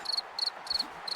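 Crickets chirp in a steady rhythm of short bursts, four pulsed trills spaced evenly and sounding at moderate, fairly close level, used as a sound effect during a football game broadcast.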